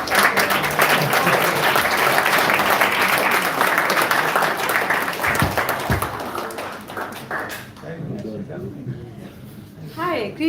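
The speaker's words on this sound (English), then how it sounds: "Another round of applause to them." An audience at a bhakti talk applauds loudly and steadily for about eight seconds, the clapping thinning and fading toward the end as a voice starts speaking.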